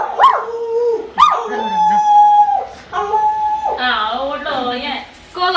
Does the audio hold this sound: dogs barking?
yes